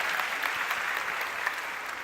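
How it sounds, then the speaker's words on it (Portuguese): Audience applause for a girl named Giovana, a steady wash of clapping from a crowd heard at moderate distance for a couple of seconds. "uma salva de palmas para Giovana"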